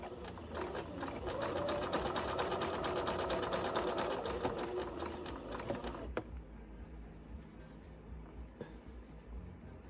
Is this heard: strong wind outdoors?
no